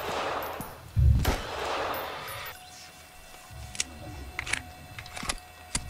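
Several sharp gunshot cracks from the horror video game Phantasmal, a loud burst early followed by scattered single shots, with a steady background hum and no talk.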